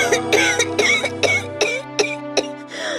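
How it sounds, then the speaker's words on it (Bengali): A mother in an animated Bengali fantasy story coughs repeatedly in a rapid series of about nine harsh, raspy bursts, close and loud with no talking. "কাশিটা আবার বেড়েছে?"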